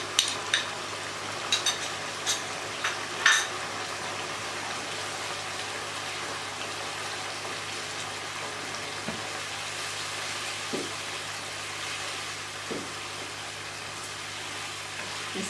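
Fried onion paste sizzling as it is stirred into chicken korma, a steady soft hiss with occasional spoon scrapes and clinks near the start, no talking.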